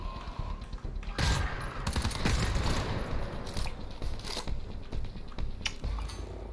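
Automated turret gunfire in the co-op shooter GTFO, with dense, rapid bursts of shots and sharp metallic clatter running almost unbroken and loud throughout.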